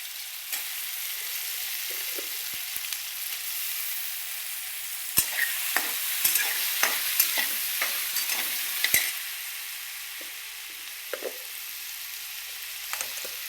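Potatoes, onion and tomato with cumin and ginger-garlic paste sizzle steadily in hot oil while being stirred, with a constant close frying hiss and scattered sharp scrapes and taps of a spoon against the pan.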